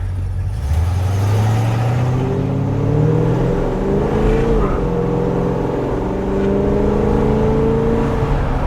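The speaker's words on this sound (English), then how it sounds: "I heard a little break of traction there, Elana." A 1969 Dodge Polara with a 440 V8 accelerating hard from close by, its engine note rising steadily through the gears, with a brief moment of tire slip as traction breaks. No one speaks.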